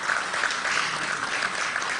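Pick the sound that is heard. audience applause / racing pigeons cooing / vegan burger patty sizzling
audience applause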